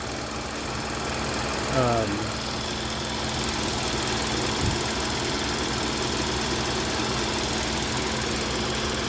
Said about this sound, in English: Typical 4-cylinder. It's got a little bit of a shake to it.